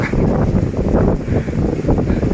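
Strong wind blows with rain at Pak Tho train station in Thailand, making a loud, continuous low rumble and buffeting with gusty surges throughout.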